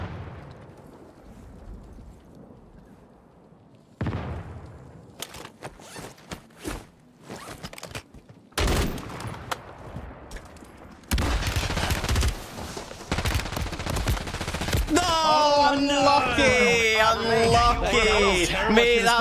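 Repeated bursts of gunfire from an unidentified weapon in Call of Duty: Warzone, sharp clustered shots coming in several volleys of rising intensity, ending amid a busy mix of game sounds and a voice talking over the action.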